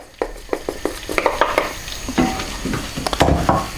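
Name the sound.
stirring flour into melted butter for béchamel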